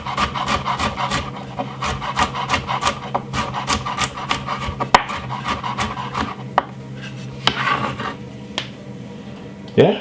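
A knife chops garlic finely on a wooden board for a butter roast turkey, in quick, regular, close taps that run in rapid bursts with brief pauses near the end.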